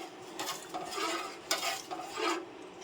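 Thick milk in a pot is stirred, and a spoon scrapes the bottom in several rough, rasping sweeps, close and fairly loud, with brief gaps between strokes.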